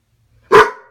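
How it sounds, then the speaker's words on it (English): A guard dog gives a single loud, close bark after a near-silent start, its sound trailing off afterward. "I have this really scary guard dog, as you can see."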